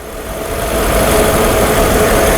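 Up close, a misfiring engine in a 1997 Mercedes-Benz E320 idles, loud and continuous, rising slightly at first and then holding a rough, slightly knocking drone with no talk.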